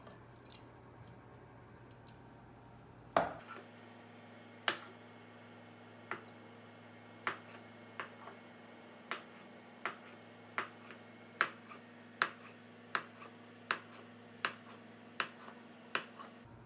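A Joyce Chen vegetable cleaver with a rounded edge chops through tofu and vegetables on a board, giving a steady run of sharp, close knocks about once a second that grows more regular after a brief low hum ends.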